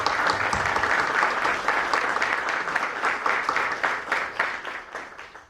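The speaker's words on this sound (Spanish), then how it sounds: "para quien pido un fuerte aplauso." Warm audience applause at a book presentation in Lima greeting the dean of a law faculty, dense clapping that holds steady and then thins and fades toward the end.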